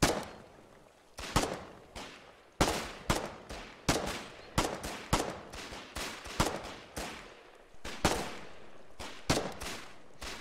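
Rapid gunfire in the online war game Foxhole during an urban battle, dense overlapping bursts and single shots cracking loudly and continuously without pause.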